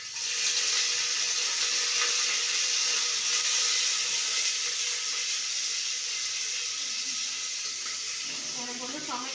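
Green chilies frying in hot oil for a Tamil tomato rice recipe, giving a steady, loud broadband sizzle that holds throughout, with faint clatter near the end.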